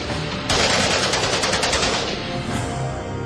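An AK-47 assault rifle fires one loud, rapid automatic burst of closely spaced shots, which ends abruptly and leaves a lingering echo.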